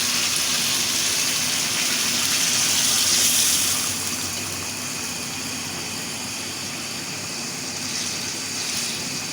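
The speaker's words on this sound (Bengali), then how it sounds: "আমি এখন পানি দিয়ে দেবো ঝোলের পানি" Hot water poured into a pan of thin hilsa fish curry gives a steady, loud rushing gush that eases slightly after a few seconds and continues alone.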